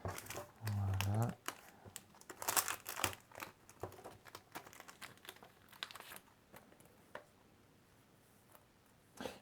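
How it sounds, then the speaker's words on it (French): A stubborn plastic packet of Pokémon card sleeves is wrenched and torn open close by, with a burst of crinkling and ripping early on, then scattered smaller crackles and rustles of the wrapper. "un paquet de sleeves qui ne veut pas s'ouvrir"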